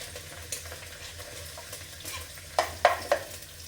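Chicken frying in a pan with a soft steady sizzle, stirred now and then, with a few sharp clatters near the end.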